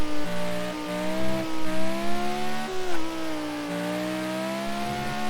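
A racing car engine in the video game Grand Prix 2 drones continuously at close range, its whining pitch climbing and dropping again and again as the revs shift, with no voices over it.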